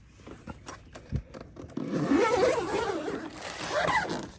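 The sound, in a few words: zipper on the storage bag for a Jeep JL Freedom top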